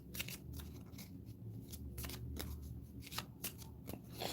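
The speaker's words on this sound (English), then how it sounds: "Shuffle those in." Playing cards for the Dungeon Brawler board game are shuffled in a series of crisp riffling bursts, quiet and close, with no talking.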